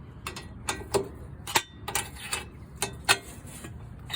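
Ratchet tightening bolts on a Toyota Tacoma front wheel bearing assembly, a series of sharp, close clicking bursts in an irregular rhythm, quiet between strokes.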